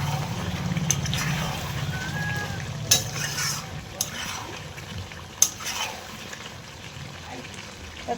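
Meat sautéed in a pan with a little remaining water sizzles steadily while a spoon stirs it, with occasional knocks of the utensil against the metal and a brief voice in the background.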